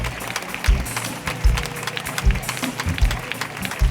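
A church congregation claps hands in steady rhythm while praying, with overlapping clapping, voices and regular low thumps throughout.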